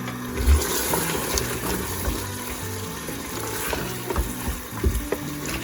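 Taro root soaked in salt water being rinsed and tipped into a pot for a mutton curry, giving a steady wash of running, splashing water with a few louder sloshes, close and continuous with no talk.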